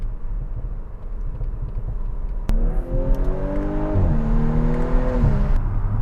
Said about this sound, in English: The exhaust crackles are literally on crack. They sound absolutely terrific.